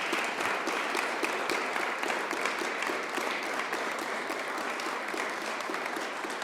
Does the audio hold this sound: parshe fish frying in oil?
no